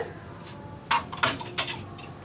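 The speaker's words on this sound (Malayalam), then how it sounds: "അപ്പോൾ നമ്മുടെ കുക്കറിൻ്റെ പ്രഷറൊക്കെ പോയിട്ടുണ്ട്. നമുക്ക് തുറക്കാം." Metal clinks and knocks as a pressure cooker of cooked pumpkin is opened: three or four separate clattering bursts of lid and pot against a quiet background.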